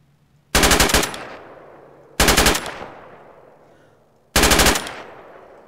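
Three loud, close bursts of automatic gunfire in an ARMA military game, each a rapid rattle lasting about half a second followed by a fading echo, spaced roughly two seconds apart.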